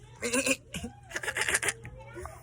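A goat bleats on a farm at feeding time, several wavering calls coming close and clear alongside a person's voice and steady background hum.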